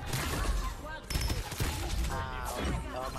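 Rapid gunfire rattles through a Farlight 84 match, dense overlapping bursts that continue throughout, with a player talking excitedly over the shooting.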